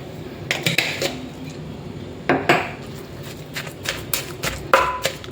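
Fermented fish paste and chili are pounded in a mortar, giving irregular clacking knocks of pestle against bowl, some single and some in quick pairs, fairly close over a low background.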